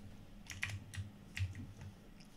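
A few quick keystrokes on a computer keyboard, soft and close, with short clustered clicks over a low steady hum and no one speaking.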